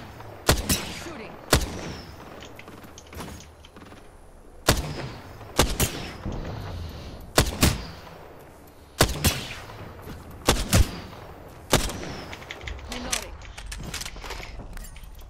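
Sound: gunfire in video game Apex Legends

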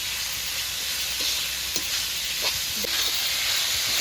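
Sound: ginger garlic paste being stirred and fried in a pan

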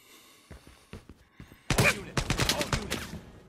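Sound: gunfire in a mobile shooter video game (Lost Light)

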